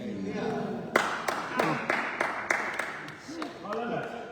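Hands clapping in a church congregation at an Easter service: a series of sharp claps spaced about a third of a second apart, mixed with voices talking throughout.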